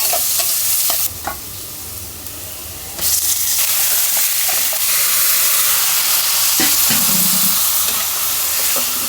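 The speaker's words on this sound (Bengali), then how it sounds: "কিছুক্ষণ মাংসটাকে এভাবে ভেজে রান্না করলে অনেক টেস্ট হয়" Pieces of meat stir-fried in a pan for a potato curry, a steady close sizzle with stirring scrapes and occasional clinks of a utensil throughout.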